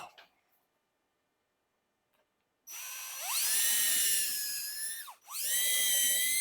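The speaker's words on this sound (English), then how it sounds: "Let's get our hole drilled." A power drill bores into a wooden picture frame, whining loud and close as it spins up, dipping briefly as the bit is eased back, then surging again.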